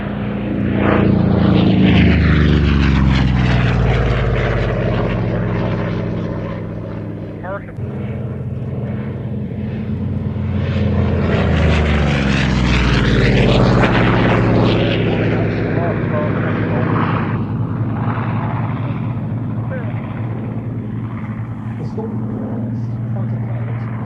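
Spitfire fighter plane taxiing, its propeller engine droning loudly with rising and falling pitch as it moves past, sustained throughout.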